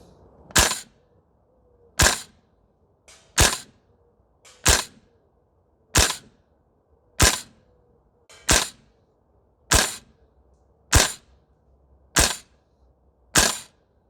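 A VFC URGI V3 gas blowback airsoft rifle fitted with 4UAD parts fires BBs outdoors in single shots, about eleven sharp, loud cracks at an even pace of roughly one every 1.3 seconds, with near silence between them.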